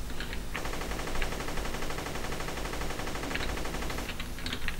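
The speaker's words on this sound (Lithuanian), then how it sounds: "Kas ten su bazuko šaudo?" Rapid automatic gunfire in the video game Guncraft rattles continuously in dense bursts, loud and close, with brief pauses between volleys.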